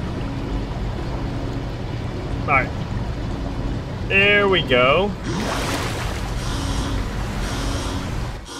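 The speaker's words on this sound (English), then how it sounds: "Suck all the water out!" In the video game Soma, a pump drains water out of a flooded room. It starts as a loud, steady rushing hiss partway through and keeps going, after someone speaks briefly.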